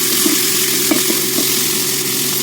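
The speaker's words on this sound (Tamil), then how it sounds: "நல்லா வதங்கட்டும் வதங்கவும் நான் வரேன்" Onions and spices with fennel seeds sautéing in a pan for a home lunch, a loud close sizzle and crackle with a few brief stirring taps against the pan.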